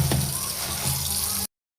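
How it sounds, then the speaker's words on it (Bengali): Water runs steadily over artificial flower bouquets being washed, a continuous splashing gush that stops abruptly just before the end. "এই জন্য সব কিছু ধুয়ে নিচ্ছি"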